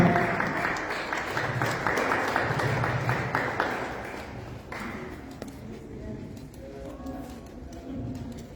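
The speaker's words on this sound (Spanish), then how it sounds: "Fuerte las palmas." Audience applause at a forum ceremony as a choir receives recognition, moderate clapping that thins and fades after a few seconds, with some murmuring.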